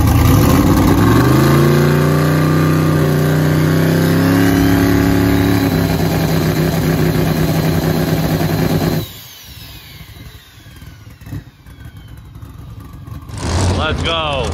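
Drag race car engine held on a two-step launch limiter, revving up and holding a loud, rising buzzing note for several seconds before cutting off, followed by quieter background noise and another brief burst near the end.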